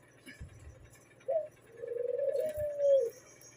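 Young pigeon or dove chicks, raised for sale and shipped north, call in a few soft cooing notes: a short coo, then a longer drawn-out one, close and clear over faint background noise.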